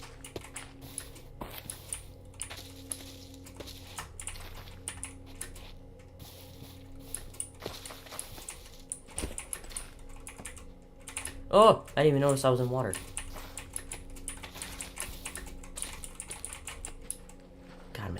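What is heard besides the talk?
typing on a computer keyboard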